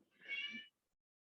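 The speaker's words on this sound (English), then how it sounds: "I'm going to hit the cat sound." A cat meow played from a phone sound app comes through as a single short, clear, moderately faint meow of about two-thirds of a second, followed by silence.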